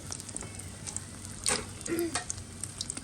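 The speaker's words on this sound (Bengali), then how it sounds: "মা হচ্ছে ডিম ভাজি করতেছে" Eggs fry in a home kitchen pan with a faint, continuous crackling sizzle and a few brief clinks and stirs, heard from a slight distance with a short murmur of voice.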